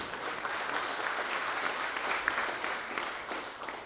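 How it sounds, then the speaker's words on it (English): Applause from the audience at the Bluefield Coal Show 2019 media and exhibitor breakfast, a steady, moderately loud round of clapping from a room full of people, continuous throughout with no talking over it. "Nice round of applause for them too."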